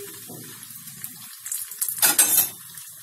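Potato chops deep-fry in oil, a soft continuous sizzle with light scraping and utensil clinks, swelling into a louder bubbling burst near the end.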